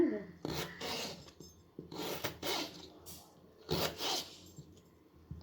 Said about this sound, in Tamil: நல்லா ஒரே ஷேப்புக்கு கட் பண்ணிவிடுங்க